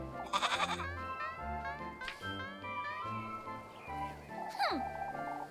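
A goat bleating in the video game Little Goody Two Shoes, several short wavering bleats set over soft game music, with a few brief voice-like cries mixed in.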